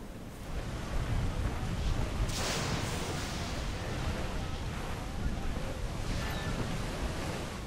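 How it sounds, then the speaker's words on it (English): Ocean waves surge and wash continuously with wind and heavy rain over open sea in Assassin's Creed 4 Black Flag, a dense, loud roar that swells after a quieter start. "Now the waves, I can't fast travel because all these waves and it's raining a lot too."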